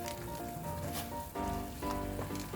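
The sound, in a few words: water boiling in pot for Chapaguri ramen noodles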